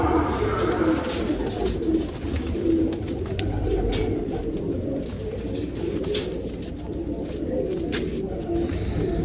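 Pigeons coo softly and repeatedly nearby, low throaty calls over a steady background with occasional clicks and rustling.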